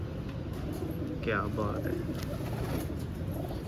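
Pigeons cooing close by in a loft, a soft low coo rising briefly mid-clip over a steady background hum, with someone speaking over it.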